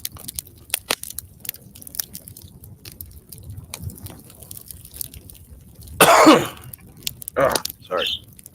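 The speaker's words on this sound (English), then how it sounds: "blow my nose here real quick" Someone blows their nose in a couple of loud, wet honking bursts near the microphone, following a quiet stretch with soft clicks and shuffling.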